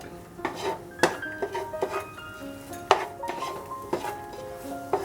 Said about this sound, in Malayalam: വഴറ്റുക